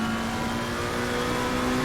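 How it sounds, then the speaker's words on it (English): A McLaren GT3 race car heard on board during a racing-sim lap at Hungaroring, its engine holding a steady, loud, aggressive drone with a sustained tonal whine throughout. "I like the sound of the McLaren. It sounds aggressive."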